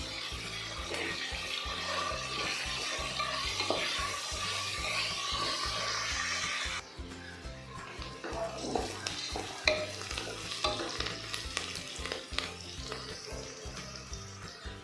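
Onions and cashews fry in a pan with a steady sizzle while a spoon stirs and scrapes in repeated knocks; the hiss eases partway through, leaving clinks and stirring sounds.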